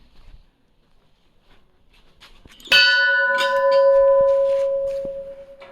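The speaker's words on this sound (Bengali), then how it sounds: "দাঁড়া একটা ঘন্টা বাজিয়ে নি" A metal temple bell at a Hindu shrine in the Nepal hills is struck once after a quiet, faintly rustling start, then rings on with a bright, sustained, slowly fading tone.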